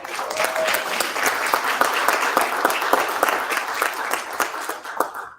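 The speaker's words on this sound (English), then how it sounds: "can we give them another round of applause?" Audience applause for a panel at the Afro Future Summit Breakfast: dense, steady clapping from a room full of people, fairly close and sustained throughout without fading.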